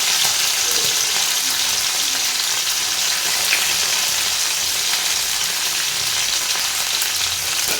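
Chana dal, curry leaves and chilies sautéing in a hot pan for idli upma, a continuous bright sizzle with faint stirring scrapes underneath, steady and close, with no talking.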